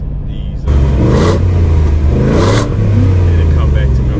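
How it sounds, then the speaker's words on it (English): A 2021 Ford F-150 Black Widow with an aftermarket exhaust revs loudly up close, its deep rumbling tone swelling and easing in two surges over a continuous idle, with a voice talking over it. "This is a nice tone exhaust. It's not too loud and raspy. It's a deep tone, and it sounds pretty good."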